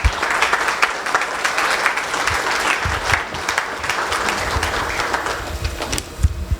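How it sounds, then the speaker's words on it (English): Sustained applause from a crowd at a political fundraiser, honoring restaurant staff, fills the room for several seconds, with dense, steady clapping throughout and a few louder claps near the end. "So how about a round of applause for all of the staff members?"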